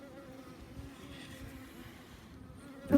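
Honey bees at a hive buzz in a low, continuous drone, fairly faint and steady throughout, ending with a brief louder knock.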